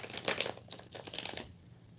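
Reading cards being shuffled by hand, a quick run of papery riffling and crinkling flicks at close range that stops abruptly.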